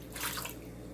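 About a cup of water poured into a pan of potatoes, a brief splashing gush that rises and then settles over a low steady hum, with no talking.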